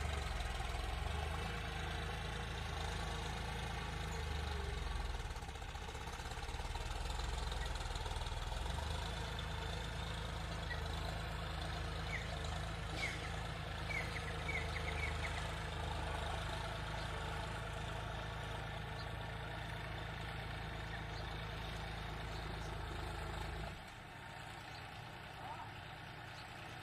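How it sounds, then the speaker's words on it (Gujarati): A tractor engine idles with a steady low rumble throughout, dropping noticeably near the end, while faint voices are heard in the background. "આપણું ટ્રેક્ટર અહીંયા હાલે છે"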